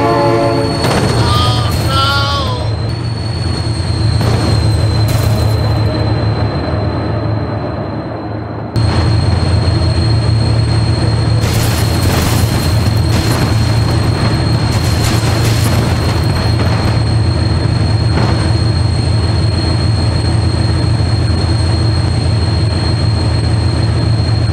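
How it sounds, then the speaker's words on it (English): A train in the BeamNG.drive driving game rumbles past, loud and continuous, with a horn blast near the start, metallic rattling and squealing wheels throughout. "Oh my god, train!"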